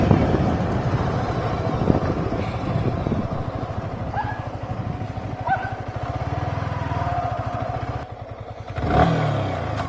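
A Yamaha R15 V3 motorcycle being ridden, its steady engine drone running the whole way with gear changes and light revving, wind buffeting the microphone and an easing off before a brief rise near the end.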